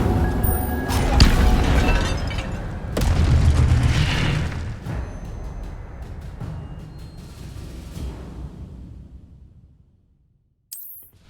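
Incendio fire spell blast in the video game Hogwarts Legacy, a heavy booming impact with crackling bursts that rumbles and slowly fades over several seconds to near silence, followed by a brief sharp sound at the end.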